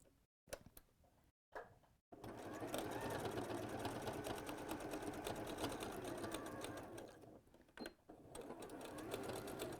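A domestic sewing machine runs a zigzag stitch down fabric while making a bag clip fastening, starting with short stop-start bursts and then settling into a long, steady, close whirring run, with brief pauses near the end.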